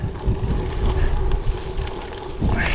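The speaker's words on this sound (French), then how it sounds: "Alors le vent, il fait un peu ce qu'il veut." Gusty crosswind buffets the microphone on a gravel bike ride in Normandy, France, with low rumbling bursts, rising and falling throughout, with a brief whoosh near the end.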